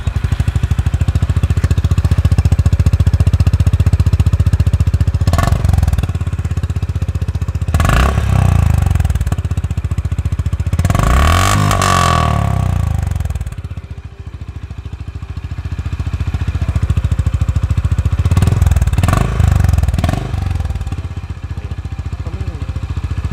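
A Honda H'ness motorcycle idles close by with a deep, bassy, steady thump. A few brief throttle blips rise and fall over the continuous rumble. No speech is heard.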